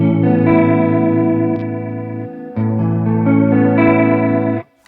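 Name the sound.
Fender Hammertone Chorus pedal guitar, tone switch up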